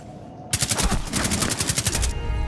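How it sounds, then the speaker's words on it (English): A sustained burst of rapid automatic machine gun fire in the video game Rainbow Six Siege, loud and close, about a second and a half of evenly spaced shots before it cuts off. "That machine gun."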